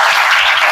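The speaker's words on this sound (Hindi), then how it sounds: "इनके लिए ताली बजा दो।" An audience claps steadily for students at a career guidance programme in Bihar, a dense, continuous patter of hands close by with no pauses.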